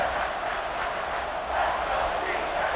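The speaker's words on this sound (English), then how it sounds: "And the crowd coming to life here, trying to help this defense down in the red zone." Crowd in the College Football 26 video game, Georgia against Tennessee, roars in a steady, dense wash of noise that swells slightly midway, with no clear break.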